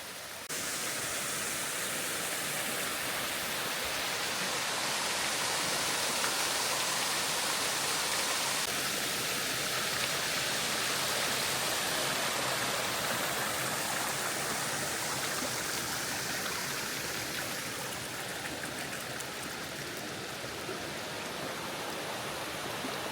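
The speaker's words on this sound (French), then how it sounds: "Et ben ça y est, on arrive à la cascade. Bon, c'est une toute petite cascade" Small waterfall, the Cascade de la Vouivre at Saint-Claude, pours in a steady, dense broadband rush that stays loud and unbroken throughout, with no voices over it.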